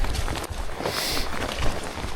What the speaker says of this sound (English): You can hear it pitter-pattering on the vegetation.